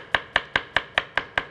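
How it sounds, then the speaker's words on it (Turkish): A knife chops carrots on a cutting board, seven crisp, evenly spaced taps in quick succession, close and clear with no voices. "Eğer ki havuç çok fazla iri ve büyükse ortadan ikiye bölelim. Ondan sonra doğrayalım."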